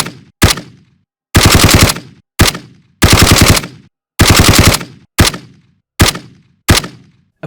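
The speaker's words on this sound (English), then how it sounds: "Right now you can hear what the gun sounds like from the files of the game." Galil assault rifle gunfire from Modern Warfare game files, loud close bursts of automatic fire alternating with single sharp shots, separated by short silences, with no talking.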